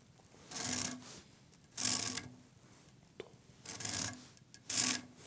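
A Japanese hand saw cuts wood for a tenon in carpentry practice, giving four long, rasping strokes separated by short pauses, close and fairly loud.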